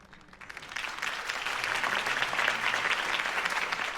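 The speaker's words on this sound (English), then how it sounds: "could have heard that applause" Steady applause from a large video game crowd swells and holds, a dense wash of clapping heard from some distance.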